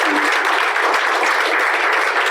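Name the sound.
audience clapping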